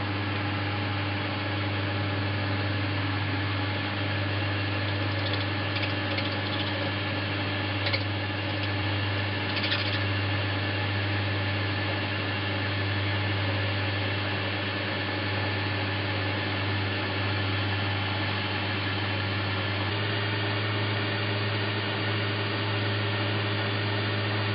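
A small lathe turns a metal part held on an 8mm nut in a 3-jaw chuck while the end is faced off level, a steady motor hum and whine with faint cutting scrapes throughout.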